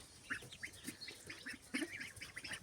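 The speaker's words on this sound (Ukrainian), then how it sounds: "Це такі ось каченята мої." Muscovy ducklings about three weeks old give faint, repeated high peeping calls in quick irregular bursts, soft and close with no talk.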